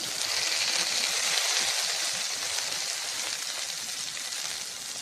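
Onions fry in hot oil with mustard seeds and urad dal, a soft, even crackling sizzle heard close and steady throughout, with no voices.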